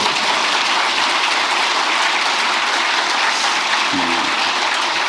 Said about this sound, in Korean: 이럴 때 박수도 한번 하세요.